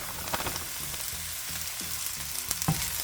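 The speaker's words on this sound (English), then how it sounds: "mix that around really good. Get all that wonderful garlic and onion put together with the rice" Rice with garlic and onion sizzles and fries in a pan while being stirred, a steady close crackle broken by occasional scraping and clinking of the utensil.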